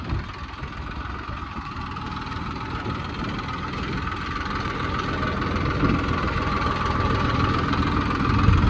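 A tractor engine runs steadily in a farm field while a JCB works nearby, giving a continuous low, rumbling drone that swells slightly toward the end, with no voices.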